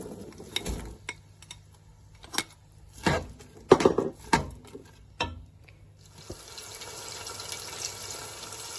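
Green peas tumble into a pan of softened tomatoes for matar pulao, giving a few separate close knocks and rattles, then a steady soft sizzle that builds toward the end. No one speaks.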